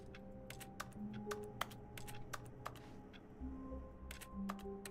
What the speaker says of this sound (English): Why is clicking making a computer sound?